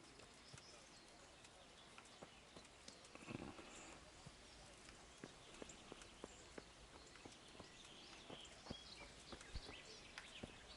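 In the medieval role-playing game Kingdom Come: Deliverance, a horse's hooves clip-clop at a steady walking pace, faint and fairly even against a low ambient background.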